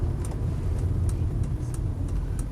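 A BMW 635CSi with an automatic gearbox drives along, its engine giving a steady, close, low rumble with road noise and no talking.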